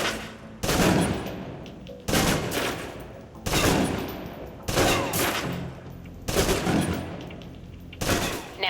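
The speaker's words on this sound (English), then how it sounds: "Now, let's move on to the submachine gun. Now let's empty the clip." A submachine gun empties its clip in the video game Alpha Protocol, sounding as six loud sustained bursts of rapid automatic fire, each lasting about a second, separated by brief quieter gaps.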